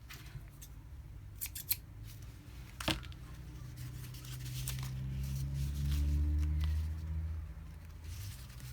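Scissors snipping through material to cut strips, a few crisp close cuts spaced irregularly, over a faint low background hum.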